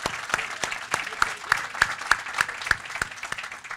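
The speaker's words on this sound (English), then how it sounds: "So let's give him a large round of applause." An audience claps for Governor Mikazuki at a Sakura Garden grand opening, with sharp clear claps standing out in a steady rhythm over the crowd's applause, nearby and alone.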